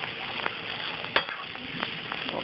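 Onions softening in a little oil in a pan, a steady low sizzle with occasional stirring scrapes and a sharper clink near the middle, no voices.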